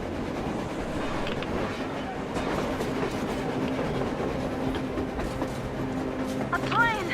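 A train passes in a video game, a steady rolling rumble with faint rail clatter that holds at an even loudness throughout.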